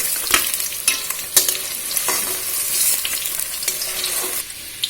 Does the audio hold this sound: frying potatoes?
yes